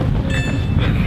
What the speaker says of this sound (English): Hang on, is that our train?